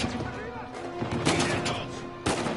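Gunfire in the game Uncharted 4: repeated gun bursts over busy game sound, with a sharp loud shot near the end and a voice talking over it.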